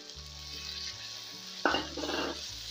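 Tomato puree with dried coriander and turmeric frying in a pot for chicken handi, a soft steady sizzle broken by a brief sharper burst of spattering as it is stirred, quiet and close with no talking.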